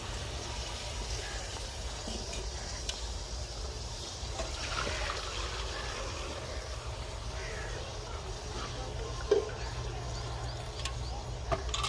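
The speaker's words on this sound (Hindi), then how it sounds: "मैं इसके अंदर पानी डालने लगी।" Water trickles and pours faintly into a large village cooking pot of chickpea and potato pulao, a soft steady dribble against quiet outdoor background noise.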